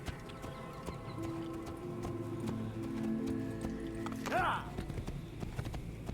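Horse hooves clip-clopping in a video game, a steady rhythmic trot under ongoing background game sounds, with a brief whinny-like call near the end and people talking over it.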